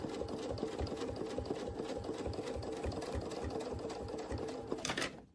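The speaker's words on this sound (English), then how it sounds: "we're going to go ahead and keep stitching, following the template" A sewing machine stitching along a quilting ruler template, a fast, even mechanical patter of needle strokes close up that stops abruptly at the end.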